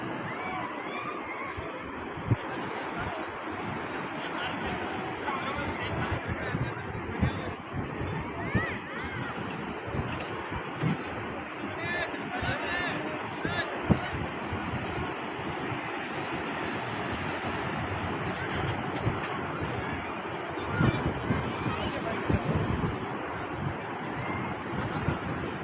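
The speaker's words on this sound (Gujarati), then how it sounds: "આ ચોમાસાનું વાતાવરણ એટલે આમ જોરદાર મોજા ને એવું આવે છે" Strong monsoon sea waves roll and crash onto Shivrajpur beach near Dwarka in a continuous surging roar, with gusts of wind buffeting the microphone and people talking over the surf.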